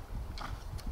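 A horse canters in a dressage arena, its hooves giving a few soft, muffled thuds in an uneven rhythm against a faint background hiss.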